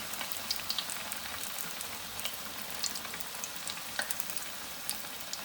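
Broccoli cheese balls fry in hot ghee with a dense, steady sizzle and scattered small pops and crackles, close and continuous without any speech.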